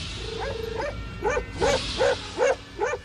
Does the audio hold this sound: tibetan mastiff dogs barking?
yes